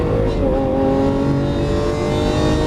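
A Lamborghini Aventador LP700-4 accelerates hard under a loud, continuous engine roar with a rising tone and a brief dip like an upshift, close and steady throughout.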